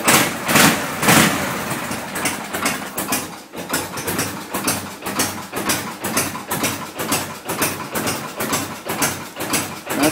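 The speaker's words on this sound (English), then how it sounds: "Little cold start." A 1979 Harley-Davidson FLH Shovelhead motorcycle engine idles after a cold start. Its loud, lumpy, uneven beat pulses steadily close by, with a few stronger bursts of revving in the first seconds.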